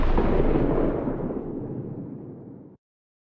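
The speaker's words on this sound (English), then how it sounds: "It's just a gunshot" A video game gunshot bursts loud and booming at the start, then a long rumbling decay fades over more than two seconds before cutting to silence, heard alone with no voices.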